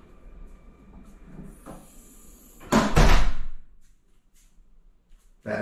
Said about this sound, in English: you just put the bracelet to the lock, and I'll open the room door